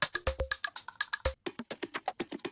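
A quiet organic house percussion loop of quick, evenly spaced hits with short pitched tones, repeating in a tight rhythm with one brief gap midway.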